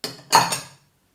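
Coconut and almonds tip into the bowl of a Moulinex Cuisine Companion food processor, giving a short, close rattling clatter that dies away within a second.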